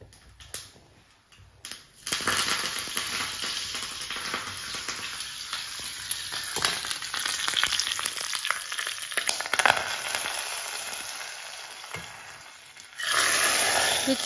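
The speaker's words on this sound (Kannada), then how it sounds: "ಒಗ್ಗರಣೆಯನ್ನು ಹಾಕ್ಕೊಳ್ತಾ ಇದ್ದೇನೆ." Tempering of spices, with asafoetida fried earlier, hits a pot of small-onion sambar and crackles in a bright, hissing sizzle that swells after a quiet start, fades slightly, then bursts louder again near the end.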